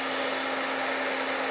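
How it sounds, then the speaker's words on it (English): A hair dryer blowing over waxed cotton fabric gives a close, steady whooshing roar with a constant motor whine, unbroken for the full second and a half. "So I'm using this hair dryer and"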